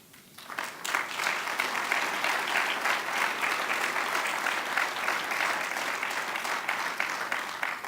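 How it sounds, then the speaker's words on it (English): Applause at a university convocation, a steady wash of crowd clapping that rises quickly and holds evenly at moderate volume throughout. "Now understand what you clap for here"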